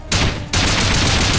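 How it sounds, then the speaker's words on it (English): A shotgun trap going off in the survival game Rust: a loud blast with close rapid follow-up shots that roll into sustained gunfire for about a second. "Lovely shotgun trap over there."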